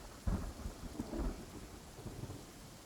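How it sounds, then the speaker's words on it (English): Rain and rolling thunder in the Genshin Impact video game, steady rainfall hiss with several low thunder rumbles swelling and fading, no talking. "In the rain, because it always seems to rain in this place."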